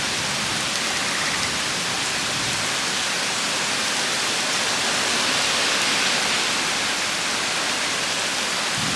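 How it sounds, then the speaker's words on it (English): Steady rain falls heavily and evenly, a dense hiss with no pauses and no voices. "Okay, well, it is starting to drizzle."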